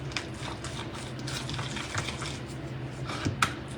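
Whisking a mix of about seven ingredients for Parmesan chicken in a bowl, a steady soft scraping swirl running throughout at close range, with a sharper clink near the end.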